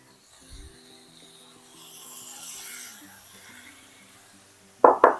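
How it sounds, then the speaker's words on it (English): A utensil rubs and scrapes steadily through chicken pad thai noodles as sauce is mixed in a pan. It ends in two sharp clattering knocks of the tool against the pan. "I'm just gonna mix well to combine."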